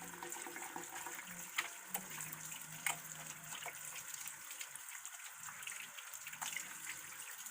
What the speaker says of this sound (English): So some hot water and soap.